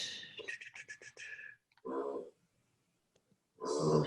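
A dog snores in rough, grunting bursts, preceded by a thin whining, whistling stretch, then two deeper snorts separated by quiet gaps, close and moderately loud.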